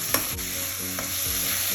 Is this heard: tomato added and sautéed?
yes